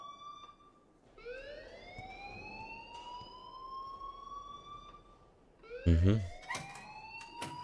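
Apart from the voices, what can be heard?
alarm ringing in the video game Life is Strange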